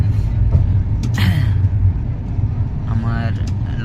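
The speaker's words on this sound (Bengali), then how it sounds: "আমি এখন ট্রেনের মধ্যে আছি" Steady low rumble inside a moving train, continuous and fairly loud throughout, with brief higher squeaks and rattles on top and faint voices in the background.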